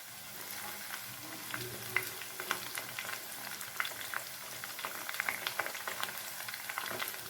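Curry leaves go into hot oil with frying chicken 65, producing a steady, crackling sizzle with small pops scattered throughout at moderate loudness.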